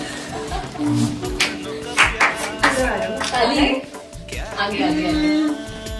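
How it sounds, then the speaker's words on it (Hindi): Family members clap together at a 25th anniversary cake cutting at home, a busy, close patter of hands mixed with chatter and voices. "तालियां"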